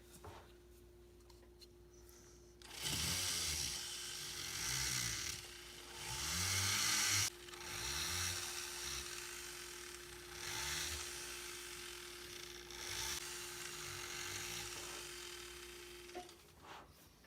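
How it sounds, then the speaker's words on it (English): A Foredom rotary tool spins a silicone and pumice abrasive wheel against a ring to polish out dents and scratches, a steady whine with grinding bursts that swell and fade in several passes, with a low hum running underneath throughout. "I'm going to use a silicone and pumice abrasive wheel, and it's going to take away all the dents and scratches that are left over."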